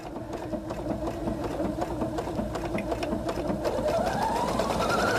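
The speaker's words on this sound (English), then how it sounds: "just use kind of the edge of my presser foot to follow the side of the seam" A sewing machine runs steadily at speed, stitching a quilt along a seam with the presser foot edge following it. Its rapid needle chatter stays loud and continuous throughout.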